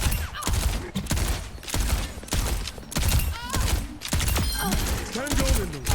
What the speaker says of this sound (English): Enemy sniper.